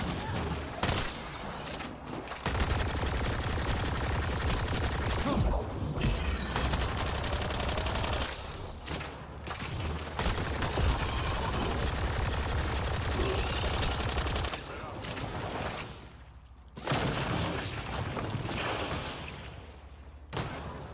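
Sustained bursts of gunfire in the sci-fi shooter game Mass Effect: Andromeda, loud and dense with rapid volleys and brief pauses near 2.5, 9 and 16 seconds, with a voice heard faintly beneath.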